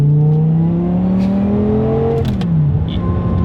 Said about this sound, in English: Just listen to this downshift. That click is so good.